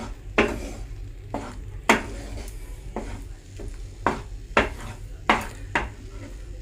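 An omelette mixture combined with onion ginger paste fries in a pan, a soft sizzle underneath as a utensil scrapes and knocks against the pan in repeated strokes every second or so.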